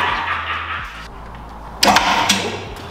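An electric motor switched on: a quiet steady hum, then a sudden louder burst as the motor kicks into spinning, continuing as an even whir, with no talking.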